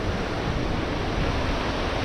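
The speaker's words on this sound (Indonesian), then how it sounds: "Ombaknya juga maksudnya besar, terus turun lagi, nggak sampai ke sini juga." Sea waves break over coral rocks on a small island separated from Bali, producing a continuous, dense wash of roaring surf with no talk.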